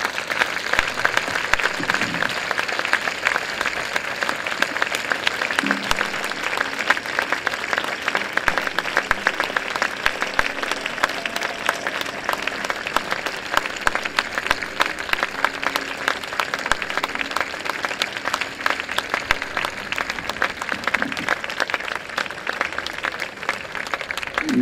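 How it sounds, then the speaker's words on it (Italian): Long, continuous applause from a large audience at a public dialogue event, an even roar of many clapping hands that holds steady for over twenty seconds with no speech. "Nel nostro dialogo vale molto anche il nostro applauso."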